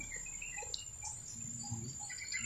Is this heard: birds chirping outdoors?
yes